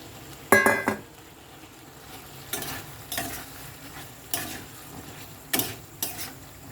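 Fried potatoes and paneer stirred in a pan with a ground spice paste, a low sizzle beneath several distinct scraping strokes of a spoon against the pan, spaced a second or two apart, close and moderately loud, with no talking.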